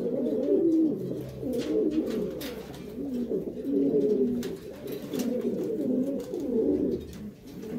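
Ash-grey pigeons coo steadily inside a pigeon loft, a continuous low burbling chorus at moderate volume with faint rustles and clicks, no voices.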